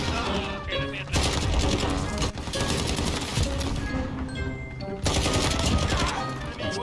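A Galil rifle, the CR-56 AMAX in the video game Call of Duty: Modern Warfare, fires in rapid, loud, close automatic bursts over busy game sound, with brief breaks between strings of shots.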